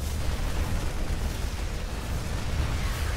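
Banelings bursting under siege tank fire in StarCraft II, a dense continuous rumble of overlapping blasts and booms with no break, loud and close throughout.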